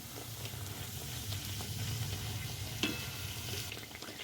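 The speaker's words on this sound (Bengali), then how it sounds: "যে নানগুলো আমি বেলে রেখেছিলাম সেই নানগুলো এবার তেলে দিয়ে দিচ্ছি।" Rolled naan bread fries in hot oil in a wok, making a soft, continuous bubbling sizzle with small crackles. The sound is quiet and steady, with no talk.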